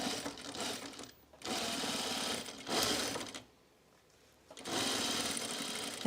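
A sewing machine stitches a clear bag in bursts, a fast buzzing whir that runs for about a second or more at a time and stops in short pauses, close and moderately loud with no talk.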